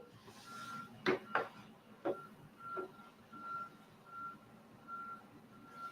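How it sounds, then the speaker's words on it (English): A truck's reversing alarm beeps steadily and faintly somewhere behind a building near a supermarket, with a few louder knocks and thumps close by over a low background hum. "Excuse the noises if you hear it's a truck in the back."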